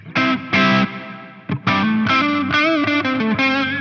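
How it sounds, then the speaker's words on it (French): A distorted electric guitar plays loud sustained chords and bends through a Neunaber Expanse pedal with heavy reverb, notes ringing and trailing into each other. "en mettant vraiment beaucoup de reverb dans mon signal"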